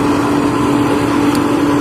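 A homemade corn dryer runs with its fan and a 4 kW engine fed from a gas cylinder, giving a loud, steady mechanical drone with a strong low hum that holds evenly throughout, with no talking over it.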